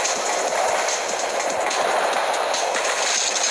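A train runs along railway tracks in the Jackie Chan Stuntmaster video game, making a loud, continuous rolling rumble with faint rhythmic clatter, heard alone without talk.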